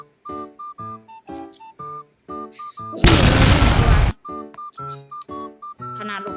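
A loud, sustained explosive blast roars for about a second, set between repeated bright chiming game tones before and after, in the video game Supreme Duelist Stickman.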